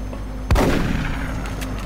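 A shotgun fires once in the XCOM Long War mod, a single loud, close blast with a sharp attack and a rumbling decay that fades into a steady low background hum.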